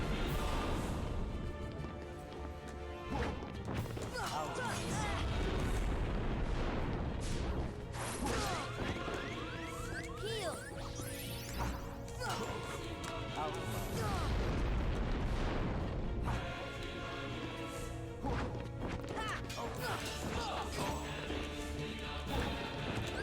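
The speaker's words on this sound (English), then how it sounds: "Fire pillar. There it is." A fire pillar attack in Kingdom Hearts Final Mix, heard as dense, continuous roaring crashes and booms that swell and repeat for over twenty seconds amid game effects.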